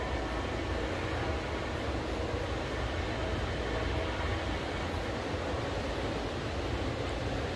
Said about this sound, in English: Here comes another train, just a short one.